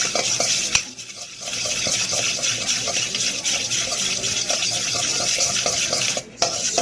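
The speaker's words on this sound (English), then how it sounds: "stir that all in there" Chili paste and garlic are stirred into a keto wing sauce in a pan, with a continuous close stirring and scraping sound, light clinks of a utensil against the pan and a brief pause near the end.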